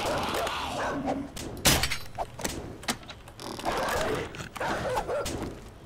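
Dog barking in the video game 7 Days to Die, with several sharp barks spread over about six seconds and mixed with game noise, thumps and clatter.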